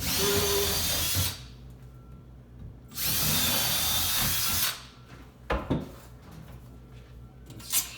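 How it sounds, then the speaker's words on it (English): A power drill drills through mounting holes for a microwave bracket, two sustained whining bursts close by, followed by a few short clicks and handling knocks, no talk. "Locate those holes. Drill through."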